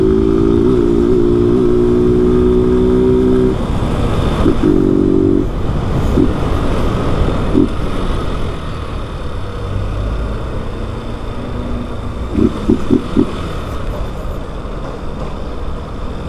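Honda Fan 160 motorcycle with a Jet cam and original exhaust run without an air filter, its engine droning loud and close throughout, with a few short revving pulses early on and bursts near the end.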